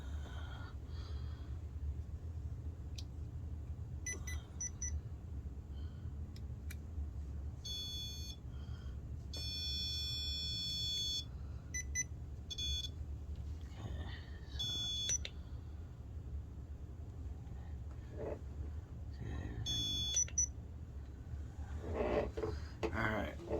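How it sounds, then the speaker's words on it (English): A REM Pod ghost-hunting device switched on gives out short bursts of high electronic beeps, some in quick clusters, over a low steady background hum, with faint breathing and movement close by. "I'll go ahead and turn on the Rem Pod real quick."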